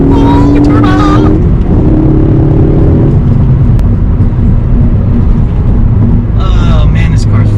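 Ford Focus ST engine droning steadily and loud while driving, with rising and falling revs and short bursts of excited voices over the top at the start and end.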